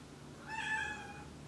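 A cat gives a single short meow, faint and fairly close, rising and falling over about a second in an otherwise quiet indoor room.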